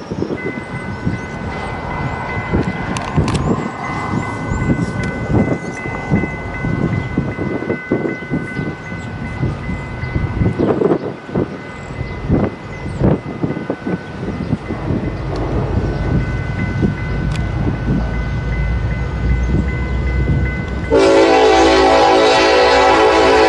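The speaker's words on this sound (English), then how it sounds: "Doesn't appear that we're stopping to do a crew change, so this would be a straight through. This is Union Pacific's Transcon line." A Union Pacific freight train on the Transcon line at Fremont, Nebraska rolls past without stopping, its steady clattering wheels and rumble joined by a sustained loud multi-tone horn blast near the end.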